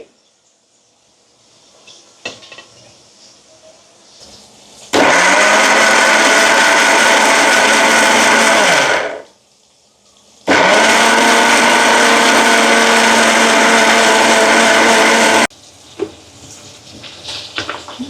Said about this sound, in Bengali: আজকে আর পাটায় বাটছি না, আমি ব্লেন্ডারে একসাথে সব ব্লেন্ড করে নেব।